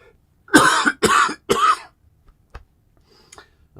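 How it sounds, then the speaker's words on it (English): A man gives three harsh, chesty smoker's coughs in quick succession, close to the microphone, followed by a few faint small clicks and throat sounds in otherwise quiet surroundings. "Got a smoker's cough here"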